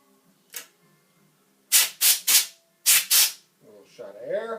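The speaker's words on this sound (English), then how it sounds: "A little shot of air." Short bursts of compressed air blown through the trigger group of a CZ 912 shotgun during cleaning: one brief puff, then a rapid run of five hissing blasts in two clusters, followed by faint rustling.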